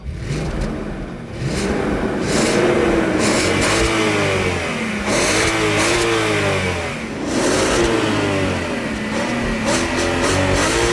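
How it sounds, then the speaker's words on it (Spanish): An Audi S6 Avant's 4.2 V8 revs hard in repeated rising and falling sweeps, a loud, close, throaty growl climbing and dropping several times in succession. "escuche el motor V8 que esconde debajo el capó"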